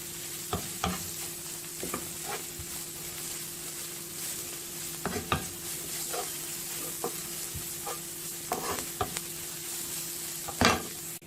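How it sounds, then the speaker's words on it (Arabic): Garlic sizzles in hot oil in a pan while being stirred, with a steady frying hiss punctuated by irregular scrapes and clinks of a utensil against the pan, close and with no one talking. "هنفضل نقلب فيه لحد الثوم ما يبقى لونه ذهبي"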